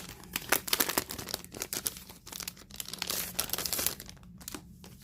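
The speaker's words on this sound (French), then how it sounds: "On a encore du papier calque" Tracing paper being handled during an unboxing of a creative craft kit, giving repeated close crinkling and crumpling rustles with a few sharper crackles, loud and continuous with short pauses.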